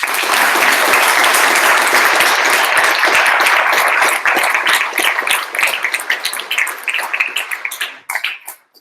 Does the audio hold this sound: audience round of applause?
yes